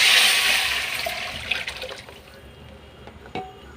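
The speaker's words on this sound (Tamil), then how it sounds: "இப்போ வந்து நம்ம கலந்து வச்சுக்கிட்டு அந்த ரசம் தண்ணி வந்து ஊற்றிக்கலாம்." Rasam water is poured into a hot tempering pan holding dried red chillies and curry leaves, giving a loud rushing splash and hiss that fades into scattered drips and small clinks over a few seconds.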